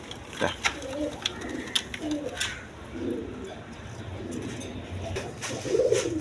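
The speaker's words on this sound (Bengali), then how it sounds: "দেখেন পাকিস্তানি টেরি কবুতর" Pakistani Teddy pigeons on a farm coo in soft, low bursts, several coos repeating over a few seconds nearby, with a voice and faint background noise around them.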